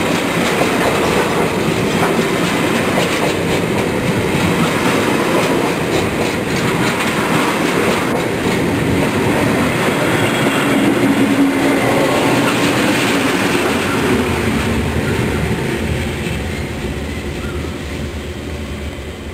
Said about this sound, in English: This is a 42 wagon push-pull coal train.